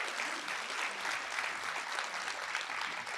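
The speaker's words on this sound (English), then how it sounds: "Let's just give Dana a round of applause." Applause for Dana at an academic affairs gathering: an even, continuous patter of many hands clapping, moderately distant and fairly quiet, filling the whole few seconds without anyone speaking.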